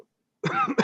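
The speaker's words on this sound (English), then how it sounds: "So when I cough, it's louder." A single close cough into a city council meeting microphone bursts out after a moment of silence, loud and rough with a short second push at the end.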